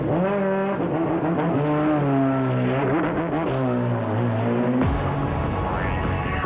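A race car's loud engine roars with shifting pitch as it leaves a pit stop at the 2004 Spa 24 Hours, revving up and down before a sharp change as it pulls away, steady and close throughout.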